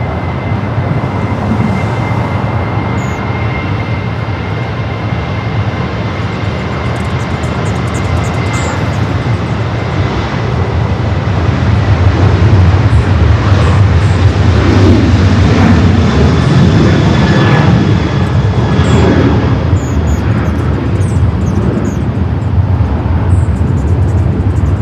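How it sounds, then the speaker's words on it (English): A Delta Boeing 737-900ER airliner bound for SFO rolls for takeoff on runway 24 left at Los Angeles International Airport, its jet engines producing a loud, steady roar and low rumble that swells slightly midway and holds throughout, with no voices. "Delta, flight 2267, a 737-900ER, now rolling down at 24 left"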